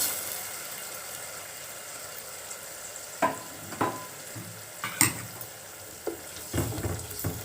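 Chicken liver frying in a pan for a pepper fry with tomato paste, a steady sizzling hiss broken by several sharp scrapes and clinks of stirring.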